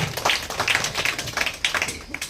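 A church congregation at a semi-Christmas worship gathering clapping in a quick, uneven rhythm, sharp hand claps close by with a voice faintly underneath.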